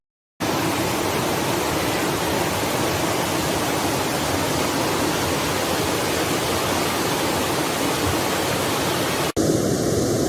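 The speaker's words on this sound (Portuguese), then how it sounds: "então esse é a Cachoeira dos Pássaros, né?" The Cachoeira dos Pássaros waterfall in the city center of Foz do Iguaçu gives a continuous loud, broadband rush of falling water, unbroken for about nine seconds before a brief cut.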